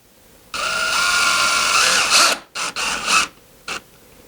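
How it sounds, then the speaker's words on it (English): A cordless power drill drives a screw into the wood of a garden pergola. One long high whine is followed by several short bursts as the screw is snugged down, loud and close. "you put one screw in and we'll screw it in until it's snug"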